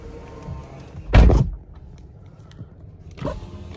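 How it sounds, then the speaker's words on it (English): A single heavy thunk of a 2017 Chevrolet Camaro RS car door shutting nearby, followed by quieter settling clicks and a softer knock a couple of seconds later. "we're gonna close the door."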